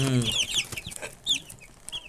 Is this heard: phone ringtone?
no